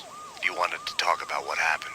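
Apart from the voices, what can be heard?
police sirens in the video game Max Payne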